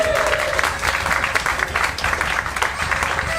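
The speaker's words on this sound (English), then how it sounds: "let's have a big round of applause, please" Audience applause greets a speaker walking onto the stage at an end-of-year show, a continuous close clatter of many hands with cheering voices and a brief whistle-like tone riding over it.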